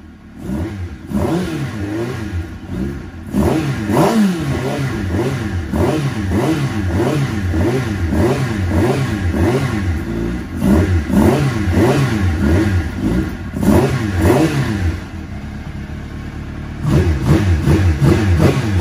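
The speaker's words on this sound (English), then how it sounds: "So you do that, start the bike up." Motorcycle engine treated with Sea Foam SF16 fuel additive starting and revving, a loud steady mechanical roar with repeated rising and falling throttle blips across the whole stretch, close up with no talking.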